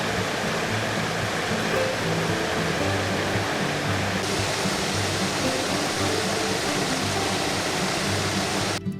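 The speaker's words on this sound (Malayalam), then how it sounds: "വെള്ളാരം കല്ലുകളിൽ തട്ടി വളരെ വേഗത്തിൽ ഒഴുകുന്ന കണ്ണീർ പോലെ ശുദ്ധമായ വെള്ളം ഒഴുക്കിൻ്റെ ശബ്ദം" Fast water rushes steadily over pebbles in a stream at Kirstenbosch botanical garden, South Africa, a loud, continuous roaring hiss with no breaks, close by.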